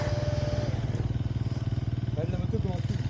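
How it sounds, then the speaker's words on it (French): A motorcycle engine idles with a steady, throbbing low putter, close by, while a person's voice briefly rises over it. "La moto commence."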